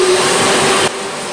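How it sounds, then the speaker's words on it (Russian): A power sander grinds down an elbow pad piece, giving a loud, close, harsh whirring hiss that cuts off abruptly and drops to a quieter rushing tone. "Мне шлифовать недолго, поэтому я сейчас быстро это сделаю"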